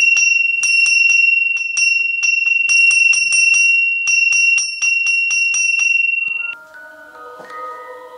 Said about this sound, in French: Une cloche.